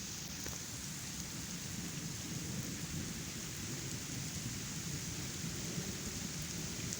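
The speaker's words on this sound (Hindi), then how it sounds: "ये इतनी बारिश हो रही है फ्रेंड्स।" Heavy rain in Pakistan pours down in a dense, continuous roar, with a deep low rumble underneath throughout.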